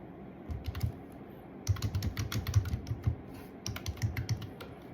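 Close keystrokes tap out a system password on a Mac keyboard in short quick bursts separated by brief gaps, crisp and moderately loud with no talking.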